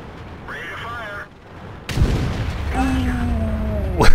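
The T49 tank gun fires in the video game World of Tanks. After quieter engine and game sounds, one heavy, close blast is followed by a rumbling decay, and another sharp burst comes right at the end.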